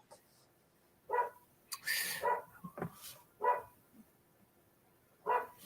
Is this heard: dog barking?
yes